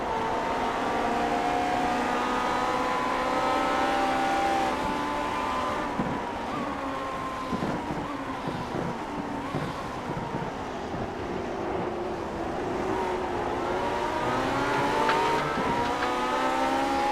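A vintage-style Grand Prix Legends race car in iRacing laps Monza on the combined layout without the first chicane. The engine note drones close and loud and slides up and down in pitch through gear changes and corners, alone with no talking.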